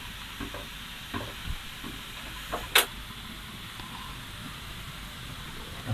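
Goose meat being stirred in a pot after fried onions are poured in, giving soft scraping strokes and a few clinks over a faint steady sizzle, with one sharper knock near the middle.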